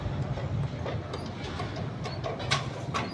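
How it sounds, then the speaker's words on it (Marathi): Metro train passing outside a 3 BHK apartment in Kharghar, heard from indoors as a steady rumbling rail roll with faint clacking, moderately distant and continuous throughout. "हे बघा मेट्रो जाते"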